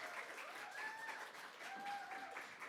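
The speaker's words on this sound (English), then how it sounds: "give her a round of applause" An audience at a launch event applauds steadily: dense, continuous clapping from a crowd, with a few faint voices and cheers mixed in.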